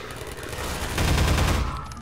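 Automatic turrets in the video game Half-Life 2 fire rapid gunfire bursts in a battle scene, a dense crackling fusillade that swells louder around the middle of the short span.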